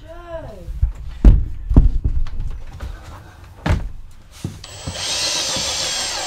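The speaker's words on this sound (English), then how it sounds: "I was going to drill a hole through here for the waste to fit." A power drill bores a hole for a waste pipe during a narrowboat conversion, its steady whir starting after several knocks and thuds, with people talking over the earlier bangs.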